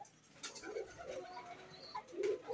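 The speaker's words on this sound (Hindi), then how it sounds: "ये तो चौधरी वाले कबूतर है ये जी" Soft cooing of pet pigeons at a pigeon club, several low throaty coos in short phrases, fairly quiet and close with little else around.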